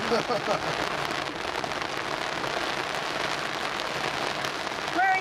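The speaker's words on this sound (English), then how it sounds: "sat in your car sheltering from this horrible rain" Heavy rain drums steadily on a car roof, heard from inside the car at a railway transport rally, a dense, continuous patter that stays close and loud throughout.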